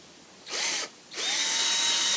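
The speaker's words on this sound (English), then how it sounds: "Then you get your drill." A handheld power drill whirs in two bursts, a short spin-up that stops, then a longer sustained run, with rising pitch at each start, close and loud.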